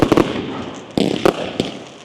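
Bonfire night fireworks going off in a street, a quick burst of three or four sharp cracks, then a few separate loud bangs spaced apart, close and punchy with fading tails.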